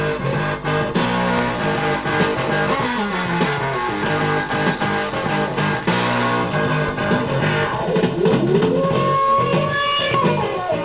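The recorded rock instrumental plays loud and continuous, with distorted, effects-laden synth and guitar lines over a full band for about eleven seconds, with no voices.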